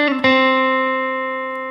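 An electric guitar picks a note in a lick, slides and lands on a picked final note that rings out long and sustained, loud and clean with slight effects.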